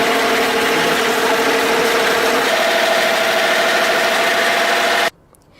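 A mill grinding roasted material runs with a loud, steady mechanical drone and hum, shifting pitch slightly midway, then cuts off abruptly near the end into near silence.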